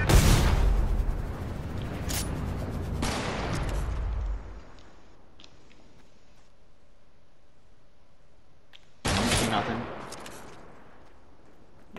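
Gunfire from bots in Fortnite: loud bursts of rapid shots over the first few seconds, a quieter stretch, then another sharp volley of shooting near the end, fairly close and harsh.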